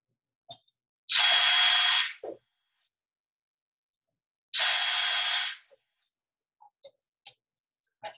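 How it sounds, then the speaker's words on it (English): A handheld drill spins a wire brush during a repair job, two separate whirring bursts of about a second each, loud and close, with faint clicks and taps between them. "And we'll just kind of put those in a drill."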